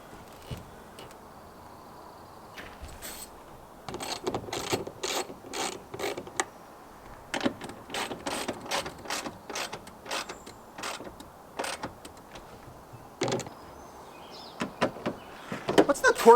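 Bolts are ratcheted in while fitting the back glass on a Toyota Tundra, with rapid bursts of clicking ratchet strokes separated by quiet pauses, close and fairly faint.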